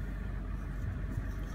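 Car engine held at full throttle during a short ram versus stock intake air temperature test, giving a steady, loud low rumble that stays constant with no talk.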